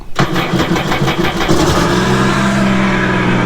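A Sea-Doo RXP-X 260 personal watercraft engine cranks with a rapid stuttering rhythm, catches after about a second and a half, then settles into a loud, steady idle up close.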